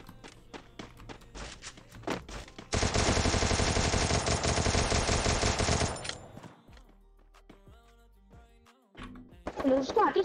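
Video game gunfire erupts in a dense, loud burst of rapid automatic shots lasting a few seconds, framed by scattered single shots, footsteps and game sounds, with players talking over the action.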